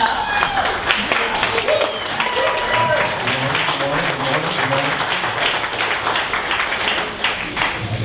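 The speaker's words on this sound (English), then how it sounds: "a big round of applause" Audience at a 1 Million Cups Dallas startup event giving sustained applause, a dense, loud, continuous roar of clapping with some voices mixed in.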